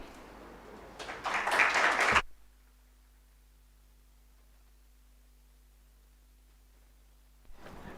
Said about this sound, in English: Let's appreciate Brent one more time with a round of applause